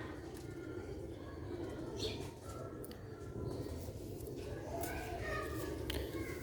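Rooftop pigeons kept for sale coo softly at moderate distance in low, repeated calls, heard under someone talking.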